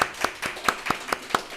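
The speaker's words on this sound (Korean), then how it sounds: "박수로 우리 환영하면 좋겠습니다." Sharp, evenly spaced claps during a church service welcome, about eight crisp strokes in a steady rhythm, close and moderately loud with nothing else over them.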